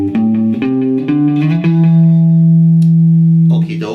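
Electric guitar with effects and reverb plays a first five-note pentatonic fragment, a quick run of plucked notes settling into one long sustained low tone, loud and alone.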